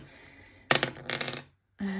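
Dice tumble and clatter during a board game, a quick burst of hard rattling clicks lasting under a second that stops abruptly, then silence before a faint hum returns.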